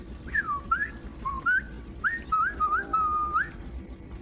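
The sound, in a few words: whistled imitation of a bird singing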